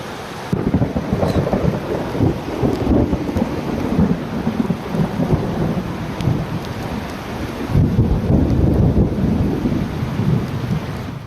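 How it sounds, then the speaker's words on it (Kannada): Heavy downpour pounds steadily in Haroogoppa village, Yaragatti taluk, Belagavi district, with a broad constant roar of rain and deep rumbling thunder rolling underneath, swelling again near the end with no voices. "ಜೋರಾಗಿ ಸುರಿದ ಮಳೆಗೆ ರಸ್ತೆಗಳು ಕೆರೆಯಂತಾಗಿವೆ."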